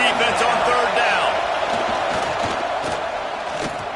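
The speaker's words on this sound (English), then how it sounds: "Decibels rising as the crowd gets behind this defense on 3rd down." Crowd noise in a college football video game simulation on a third-down defensive stand. A dense, loud roar of cheering and shouting continues throughout.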